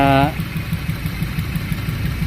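A Toyota Corolla 2E engine that misfires and lacks power idles with a steady, low, rhythmic rumble throughout. A brief voice is heard at the very start.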